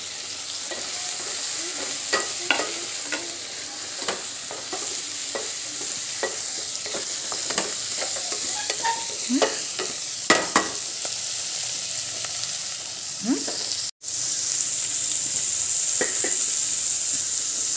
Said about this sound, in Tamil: நல்லா வதக்கணும் காயை காய் நல்லா வேகணும்